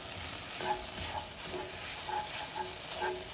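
Onions, celery and carrots sweat in a pot for low-sodium chicken noodle soup, giving a steady, soft sizzle and gentle bubbling that stays faint and even throughout, with no voices.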